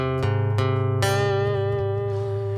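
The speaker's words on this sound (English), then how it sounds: "It sounds like a chorus pedal with a rate turned all the way up" Guitar played with fast, heavy vibrato that wobbles like a chorus pedal at full rate, with a few plucked notes ringing out and a sustained, quivering tone fading toward the end.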